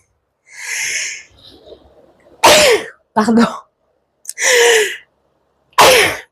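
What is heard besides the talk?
sneezing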